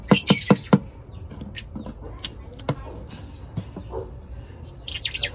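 Newly hatched chicks give a few high, sharp chirps in quick bursts at the start, then scattered faint peeps and light patter, with more chirping near the end.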